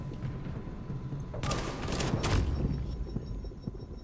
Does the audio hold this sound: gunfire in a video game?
yes